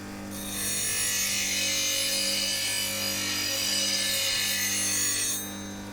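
A woodturning gouge gets ground to an asymmetric profile on a bench grinder, a close, steady, harsh rasping hiss held for about five seconds over the constant hum of the grinder motor.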